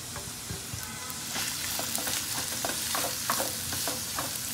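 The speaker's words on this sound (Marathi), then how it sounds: "फक्त या भाज्या फ्राय करायच्या आहेत" Onion, capsicum and green chilli frying in a pan, with a steady close sizzle and repeated stirring scrapes and taps, moderately loud, no talk.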